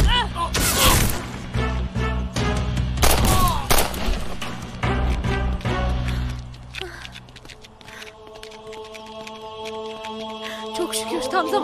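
Gunfire in a Turkish TV drama shootout scene, loud repeated bursts of shots and impacts in the first half, fading into a calmer tail under tense music and voices.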